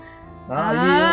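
A cat meows once after a short quiet lead-in, the call rising into a clear tonal note and then holding steady, close and moderately loud with no other sound around it.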